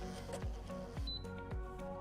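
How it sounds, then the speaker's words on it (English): Mitutoyo DP-1 data logger printing a micrometer reading, a faint run of rhythmic mechanical clicks and ticks repeating about every half second with a brief high whir, close and quiet with no talk. "The value that's on the mic will then transfer over to the printer."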